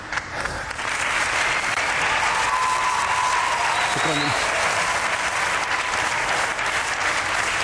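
An audience in a hall gives long, steady applause after a poem recital about Jerusalem. The clapping is dense, loud and continuous throughout, and a voice briefly speaks over it.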